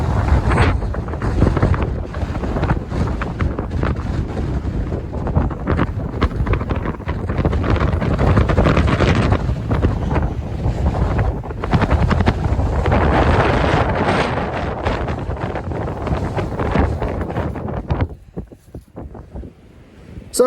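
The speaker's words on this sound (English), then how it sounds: "I apologize for the wind." Strong prairie wind buffets the microphone in western Kansas, a loud, continuous rumbling roar that gusts steadily for about eighteen seconds before easing off near the end.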